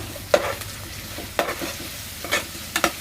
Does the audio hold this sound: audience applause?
no